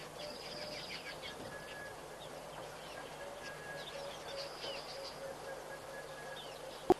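Black cuckoo calling at a wildlife waterhole, with repeated faint, distant whistled notes over a steady backdrop of insect chirping and other bird calls.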